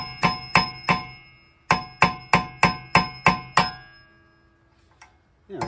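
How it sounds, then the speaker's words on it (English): Sharp metallic hammer strikes on a metal punch cutting a new notch during a 2015 Subaru Legacy rear wheel hub replacement: three blows, a short pause, then seven more in a steady rhythm, ringing and close, with no talking. "I'm going to take my punch here and just create a new notch there"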